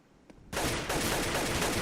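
Rapid gunfire in a competitive first-person shooter match, a 1v1 Counter-Strike style duel; after a brief quiet lead-in, a dense loud burst of shots and action sounds fills the rest of the moment without talk.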